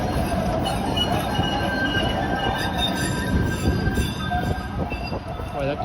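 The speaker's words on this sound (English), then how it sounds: "that train doesn't sound very good" A passing train grinds along steadily with high, sustained wheel squeals and screeches running over a dense rumble on an empty street, loud and close throughout with no talk.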